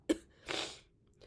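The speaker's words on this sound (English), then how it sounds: "why am I having a coughing attack right now?" A person's coughing fit sounds close to the mic as two short, harsh bursts: a sharp first cough, then a longer, breathy, rasping one.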